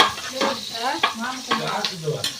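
Cauliflower tempering in a hot pan, with steady sizzling and frying broken by several sharp scraping stirs of a utensil, close and moderately loud, with no voices.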